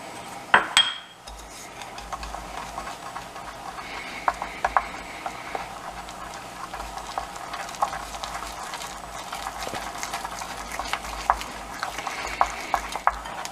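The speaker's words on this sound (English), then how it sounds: "So now we're going to add 2 tablespoons of flour and get that all stirred in." A spoon stirs flour into a rehydrated sourdough starter in a bowl, producing continuous close scraping and clinking against the sides after a brief knock at the start.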